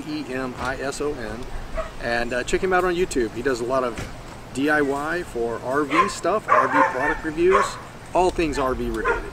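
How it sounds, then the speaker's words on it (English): Many dogs bark and yip at an AKC dog show at an RV park and event center, the barking steady and fairly close beneath someone talking nearly throughout. "There's a big AKC dog show going on at the moment. You can hear all the dogs kind of barking around."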